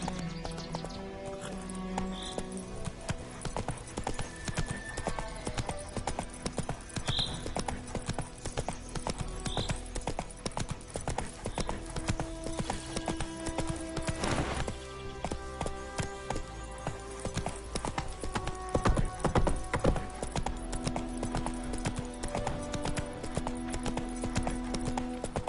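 Horse in The Witcher 3 galloping, with rapid rhythmic hoof clip-clops repeating steadily throughout, occasional whinnies, and game music and ambience underneath, all at modest level.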